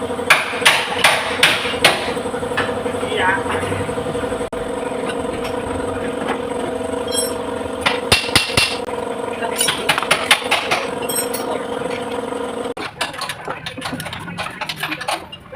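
Sharp metallic hammer blows on Toyota Innova suspension parts ring out in quick bursts of several strikes, close and loud, over a low mechanical hum with brief pauses between.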